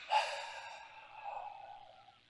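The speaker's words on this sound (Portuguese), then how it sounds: "Tomando uma respiração profunda" One slow, deep exhale during a guided sound-healing breathing exercise, a soft breathy rush that fades over about two seconds, quiet and close.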